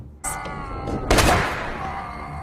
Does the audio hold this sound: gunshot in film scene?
yes